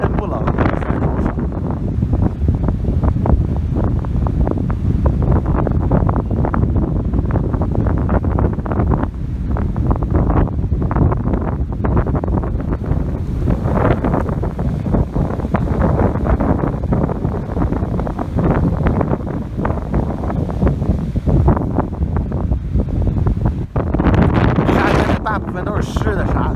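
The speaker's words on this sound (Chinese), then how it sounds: "突然间来一股大风，看看海浪" Strong sea wind buffets the microphone on the shore at Longkou, roaring steadily throughout with the surf rumbling underneath on a rainy day.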